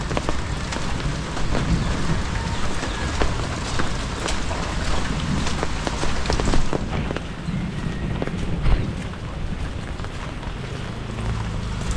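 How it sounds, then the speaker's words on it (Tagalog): Heavy rain pours steadily, a dense hiss with frequent spattering drops, loud and continuous with no voices. "Lakas talaga na ulan yan."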